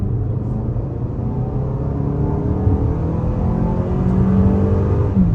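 A 2023 Toyota RAV4 XLE engine in sport mode revs steadily at about half throttle, a loud, continuous drone that climbs smoothly in pitch for several seconds with no talking.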